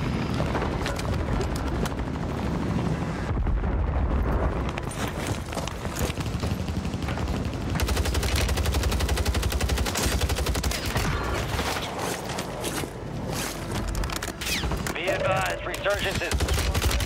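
Warzone gunfire rattles in dense, overlapping bursts throughout, loud and continuous, with voices talking over the shooting.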